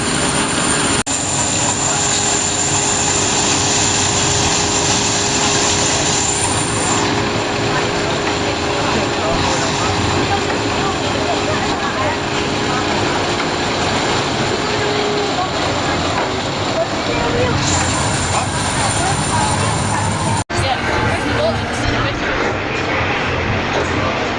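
Ride on the Big One roller coaster at Blackpool Pleasure Beach, a steady loud roar of wind and wheels running the whole way, with brief hissing surges partway through.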